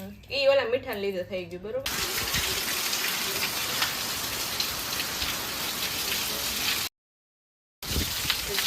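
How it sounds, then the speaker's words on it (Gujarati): Heavy rain in Balagam roars steadily on a surface, dense and close, after a brief stretch of voices at the start; the downpour cuts out briefly before resuming. "અત્યારે ધમધકાર વરસાદ ચાલુ છે"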